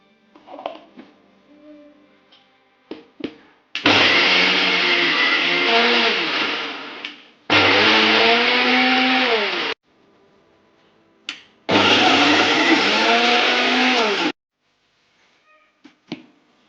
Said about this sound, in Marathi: आता आपण हे मिक्सरला बारीक करून घेऊया।